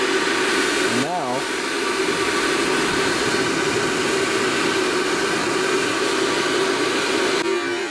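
A water heater blower runs close and loud, drawing in air with a constant breathy roar and a steady hum throughout, with a brief wavering whine near the start.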